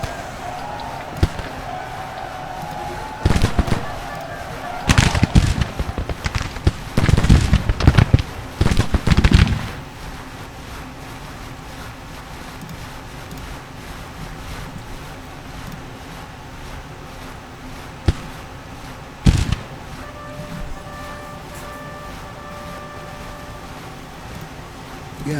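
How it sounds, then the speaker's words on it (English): Artillery fire in the Civil War strategy game Grand Tactician, with a dense cluster of loud cracking booms, then a quieter stretch broken by a single later report. "There's that artillery."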